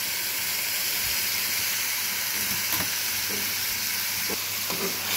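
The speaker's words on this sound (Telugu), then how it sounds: "ఇప్పుడు కీర ముక్కలు వేసేస్తాం." Cucumber pieces hit a hot pan already seasoned with salt and turmeric, sending up a steady close sizzle and hiss with a few light stirring scrapes, no voices.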